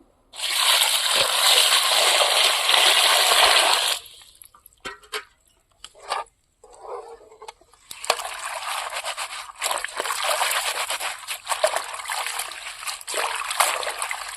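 Water is poured over cut chukka kura (sorrel) leaves in a bowl to wash them, first in a strong steady splash, then a pause with scattered drips and sloshes, then another long pour.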